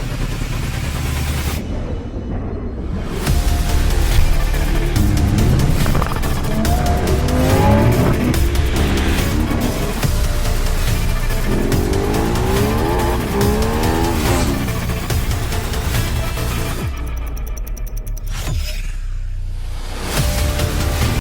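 A Lamborghini racing a Tesla Model S and an electric scooter: loud, continuous engine roar with rising and falling revs, tire squeal and skidding throughout, close and steady with no voices.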